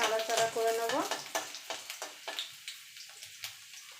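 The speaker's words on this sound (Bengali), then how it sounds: "रसुनटाके एकटुखानि नाड़ाचाड़ा करे नेब।" Crushed garlic, with dried red chilli, sizzles in a pan while being stirred, a short burst of voice at the start, then a series of distinct scraping stirs over a softer fry.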